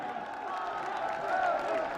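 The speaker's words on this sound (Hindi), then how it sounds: "आप सब तालियों के प्रणाम उन तक पहुंचाएं और उनका अभिवादन करें।" Large outdoor audience at a Noida International Airport foundation stone ceremony applauding Prime Minister Narendra Modi, a steady wash of clapping and crowd noise at moderate distance with no pause.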